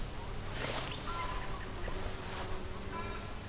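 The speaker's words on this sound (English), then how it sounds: "there are the bees getting a morning feed" Bees forage on self-seeded cosmos flowers in a garden in the morning. A soft buzzing hum sits under faint, steady outdoor background noise, and a few thin high chirps repeat through it.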